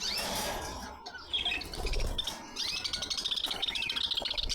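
Budgerigars chirp and squawk in a cage, with busy overlapping tweets growing into rapid repeated calls close by.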